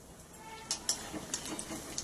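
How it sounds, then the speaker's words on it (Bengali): Pieces of ash gourd dipped in gram flour batter fry in hot mustard oil, making a steady, soft sizzling hiss with small crackles and ticks close by. "সর্ষে তেল গরম করে নিয়েছি এবারে বেসনের গোলায় ডুবিয়ে আমি চাল কুমড়োগুলোকে এক এক করে ভেজে নেব"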